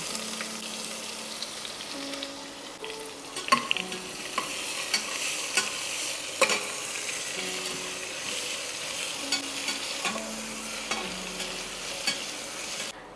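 One medium onion, sliced, sautés with two bay leaves in a pan, giving a moderate continuous sizzle broken by repeated scrapes and taps of a stirring spoon.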